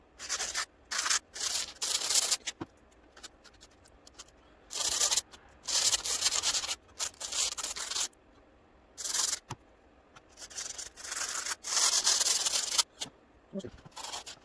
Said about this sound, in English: You can fix it sanding.